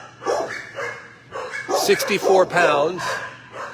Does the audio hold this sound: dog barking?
yes